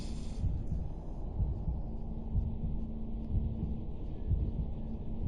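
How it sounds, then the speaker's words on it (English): Low, throbbing heartbeat pulses from the horror video game Bendy, repeating steadily beneath a constant droning hum. "you can start hearing the heartbeat sounds, obviously"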